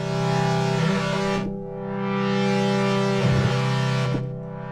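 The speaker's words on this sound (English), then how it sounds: "I can get an almost slapback delay effect" Synthesizer playing sustained, distorted harmonic tones through a quick panning slapback delay, with two pitch swells that drop out and return, loud and close with no voices.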